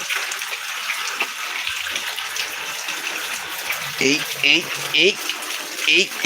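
Water rushes along a stream during rain and wind, a steady outdoor gushing flow with someone talking over it in the second half.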